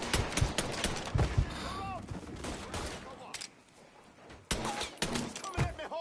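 Gunfire in the video game Mafia 3: rapid bursts of shots crack in irregular clusters, with a short lull midway before more shots resume, close and loud.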